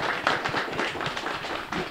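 An audience applauds for Bjørn Inge at a summer exhibition on Andøya, a brief burst of scattered hand claps at moderate level with no talk.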